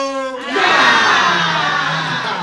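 A crowd at a community food-bank gathering roars with shouts and cheers, swelling right after a short call from one voice and holding loud and dense to the end.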